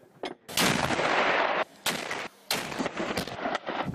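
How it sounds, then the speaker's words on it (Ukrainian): Heavy Ukrainian artillery fire near a shattered village on the outskirts of Donetsk: several loud, booming blasts in quick succession, each with a long rumbling tail that fills the gaps between shots. "Це наша артилерія зараз наша."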